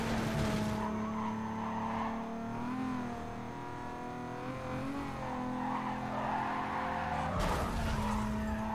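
Tires squeal steadily as a car spins donuts in the Need for Speed: Carbon racing game, with engine drone underneath. The skid is loud and continuous, then briefly cuts out before resuming.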